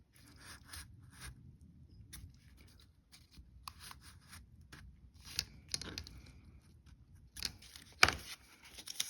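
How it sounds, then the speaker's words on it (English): Scissors cut a triangular shape from paper while folding a woven accordion book, making quiet, scattered snips and paper rustles with a sharper crisp snip near the end. "So I finished cutting out that triangular shape"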